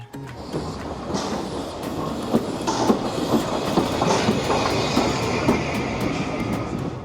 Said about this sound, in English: The rhythmic chug of the engine, the billowing clouds of steam, and the clickety-clack of the tracks evoke a sense of nostalgia and wonder.